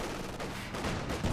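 A T-70 tank fires on Grenadiers in the Advance Wars video game, producing a brief, dense burst of heavy, rumbling gunfire.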